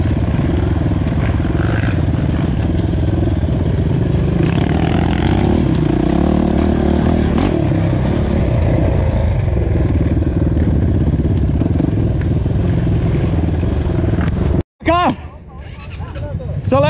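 Trail motorcycles ride at speed during an off-road rider meetup in Bom Retiro do Sul, Brazil, a loud continuous engine roar with wind noise under scattered talk, cutting out briefly near the end.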